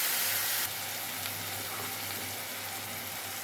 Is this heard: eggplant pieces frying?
yes